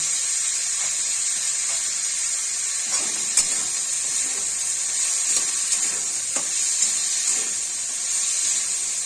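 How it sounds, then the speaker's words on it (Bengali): Carrot pieces land in hot oil for a Mughlai paratha filling, sending up a continuous bright hiss and steamy sizzle with a few sharp crackles and small scraping sounds throughout. "এবার আমি গাজরটা ছেড়ে দিচ্ছি"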